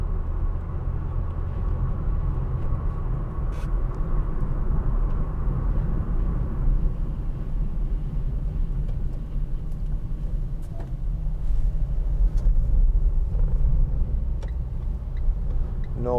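A 2015 Vauxhall Vivaro 1.6 CDTi ecoFLEX BiTurbo panel van, unladen, pulls away under steady acceleration, its deep diesel drone and road rumble continuous and close from inside the cab, with no one talking.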